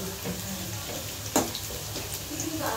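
Potatoes frying in hot oil in a pan, a steady close sizzle with light stirring scrapes and one brief sharper clatter midway.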